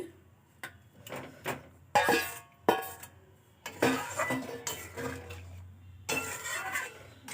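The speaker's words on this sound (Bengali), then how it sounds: "এখন ডিমটাও দিয়ে দিচ্ছি।" Boiled eggs go into a simmering egg masala gravy in a pan, with a run of close spoon-and-pan clinks and soft, wet stirring knocks between quiet gaps.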